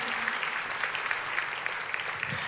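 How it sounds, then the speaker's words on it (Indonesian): Church congregation claps during a sermon, a fairly soft, even patter of many hands heard at some distance, continuing without pause. "saya nggak mendengar tepuk tangan yang paling meriah dari tempat ini"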